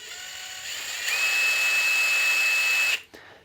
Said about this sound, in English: So what I'm gonna be using to do this is what's called a nibbler.